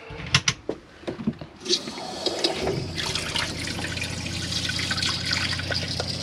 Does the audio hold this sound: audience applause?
no